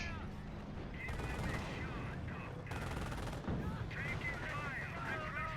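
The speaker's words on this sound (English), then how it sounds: "here's the Calliope barrage again" Rocket artillery barrage from a Calliope launcher in a WWII-style video game, with dense rolling booms and crackling gunfire going on throughout, loud and continuous, mixed with whistling streaks.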